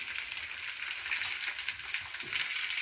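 Butter frying in a pan for pierogi filling gives a soft, steady, close sizzle with fine crackling throughout, fairly quiet and with no talk.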